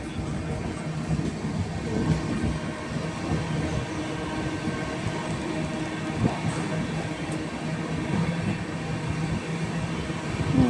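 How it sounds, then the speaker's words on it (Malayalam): Low, continuous rumble of a train at a railway station with rattling and clanking, steady throughout and swelling slightly toward the end. "ഇത് ഒരു റെയിൽവേ സ്റ്റേഷനാണ്"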